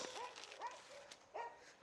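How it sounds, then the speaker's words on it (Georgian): Several dogs bark in short separate bursts, near and fairly faint, with pauses between them in an indoor home setting. "რა ხდება, ჩემო ძაღლებო, ვის ეჩხუბებით?"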